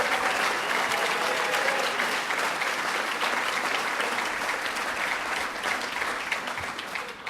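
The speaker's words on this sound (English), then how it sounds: "Let's give her a round of applause." Sustained audience applause for Senator Betty Little at an awards ceremony, a loud, dense and continuous roar of many hands clapping that holds steady for several seconds before easing slightly at the end.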